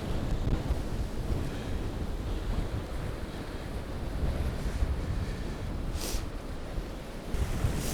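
Stormy sea surf breaking against a rocky coast, a steady roaring wash of waves with wind buffeting close to the microphone, a few brighter splashes near the end.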